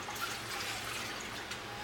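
Hot water running from a tap into a pan with caramelized residue: a steady, close hissing splash of flowing water, moderately loud and continuous for under two seconds, no talk.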